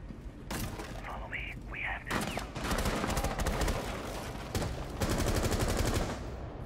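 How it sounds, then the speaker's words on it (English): Rapid automatic gunfire in Rainbow Six Siege, several close, dense bursts separated by short pauses, with brief mechanical clicks between them. "Who's shooting?"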